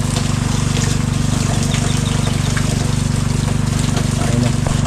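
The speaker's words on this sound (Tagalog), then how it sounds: "Lalagyan na tayo ng tubig sa kanilang inuminan." Water pours into an animals' drinking container, a steady trickling rush running the whole time over a constant low mechanical hum.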